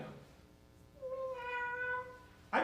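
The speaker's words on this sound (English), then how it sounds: "Is that a cat? Oh, a cat? Cats do live in these back alleys." A cat meows in a back alley during a Japanese stage play, a single drawn-out harmonic meow, faint and somewhat distant, with a brief voice cutting in at the end.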